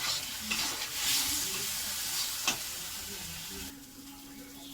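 Cumin and coriander spice paste fries in a pan with a soft, steady sizzle and some stirring scrapes. Near the end it fades to a quieter hiss, with a faint voice in the background.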